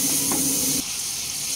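Water splashed into hot ground spices, including Kashmiri red chilli powder, in a pan for a bhetki fish head curry sets off a loud, steady hiss and sizzle that eases slightly after a moment and keeps going to the end.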